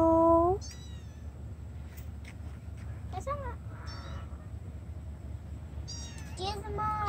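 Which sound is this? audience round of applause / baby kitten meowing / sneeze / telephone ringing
baby kitten meowing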